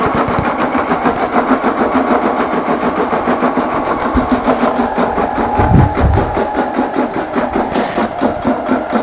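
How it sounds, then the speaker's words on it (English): A Cricut Futura embroidery machine stitching, giving a steady, fast mechanical chatter that runs continuously at close range, with a brief lower thump partway through and no voices. "So that is just going to stitch and stitch and stitch away."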